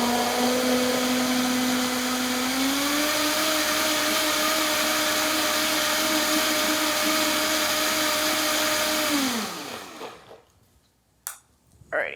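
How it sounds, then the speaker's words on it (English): A blender whirs loudly through homemade barbecue sauce, its motor pitch rising once early on and holding steady before spinning down and stopping, followed by a few small clicks and handling noises. "So we're gonna blend this guy again."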